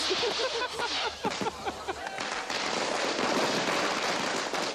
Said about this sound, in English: My apologies for the explosions in the Indian firecrackers.